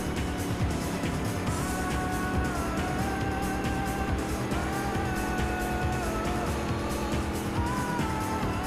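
Race cars in a NASCAR video game roar past in a continuous stream, engine tones rising and falling as several cars sweep by close, with a constant loud engine drone underneath.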